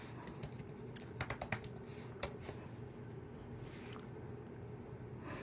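Rapid keystrokes on a computer keyboard while quilt block measurements are worked out, with clusters of sharp clicks and irregular pauses close by, over a low steady room hum.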